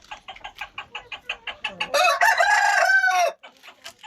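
A rooster crows loudly and close by in one long cock-a-doodle-doo, preceded and followed by rapid rhythmic clucking from nearby fowl.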